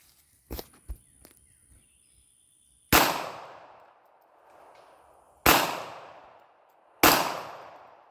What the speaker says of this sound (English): I'm gonna shoot starting from the big one to the smallest